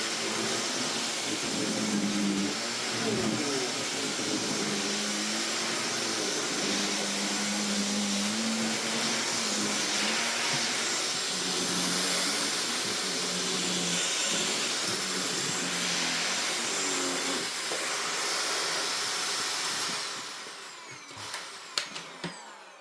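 A Shark NV681UK-T upright vacuum cleaner runs with a loud, steady whooshing roar and motor whine, close and unbroken for about twenty seconds before switching off and winding down, followed by a few faint clicks.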